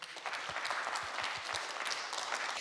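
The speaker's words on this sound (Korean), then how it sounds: "여러분들 일단 큰 박수로 좀 맞아주시죠." A studio audience at the 2011 Radio Korea scholarship quiz show breaks into dense, sustained applause to welcome a card-magic act, a steady wash of many hands clapping throughout with no talk over it.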